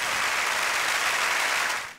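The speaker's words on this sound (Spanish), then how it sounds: "Muy bien, un gran aplauso para ustedes mismos." Steady applause from a group during a primary school music lesson on musical notes, dense, even clapping held for about two seconds before fading out, with no talking.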